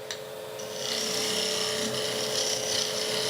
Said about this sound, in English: Nice and gently we can start cutting, and we're actually getting shavings coming off.